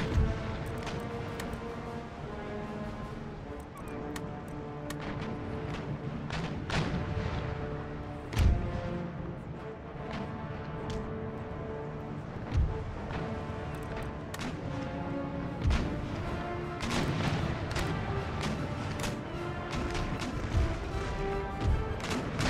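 Cannons fire round shot in an Empire: Total War naval battle, scattered heavy booms landing irregularly over continuous orchestral music.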